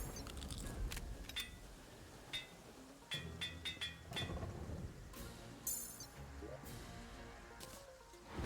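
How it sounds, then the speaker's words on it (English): A faint, low rumble of thunder rolls through a video game storm, with quiet rain hiss and scattered sharp clinks and taps layered over it. "You gotta love those dark and stormy days."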